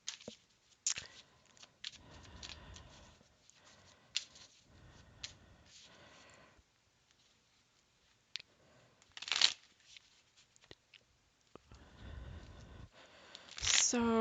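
Tarot cards being handled and shuffled close up, with several riffling bursts and soft slides separated by quiet gaps, with a voice speaking in between.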